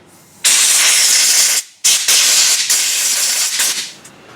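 Brake cleaner sprayed into a bolt hole on a KTM motorcycle: loud, close aerosol hissing in long bursts, one brief pause, then continuous spraying that tapers off.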